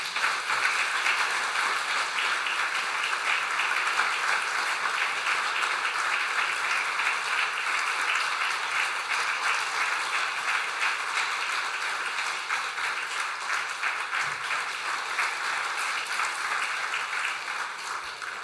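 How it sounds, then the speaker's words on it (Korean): A church congregation claps warmly during a year-end Sunday service while awards are handed out, a long, even, dense wave of applause that continues unbroken without any voices. "전달할 때 큰 박수로 격려해 주시면 감사하겠습니다."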